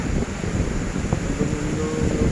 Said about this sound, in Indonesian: Pantainya ombaknya besar sekali, mendung.